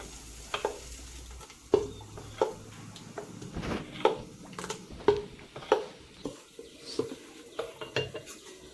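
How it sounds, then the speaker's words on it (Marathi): Spoon or whisk beating jowar dosa batter with salt and coriander in a bowl, a run of close, uneven clinks and wet stirring knocks with a faint sizzle beneath. "आता आपण चवीपुरतं मीठ आणि भरपूर कोथिंबीर टाकायची आणि चांगलं मिक्स करून घ्यायचं, असं फेटून घ्यायचं चांगलं."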